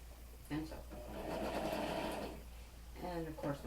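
A home sewing machine stitches pinwheel quilt block pieces together in a steady, continuous whir lasting a few seconds, bracketed by brief speech at the start and end.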